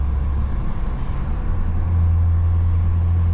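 Remapped BMW E34 525 TDS Touring diesel engine running steadily while driving, a low, continuous drone that stays near and fairly loud without a break.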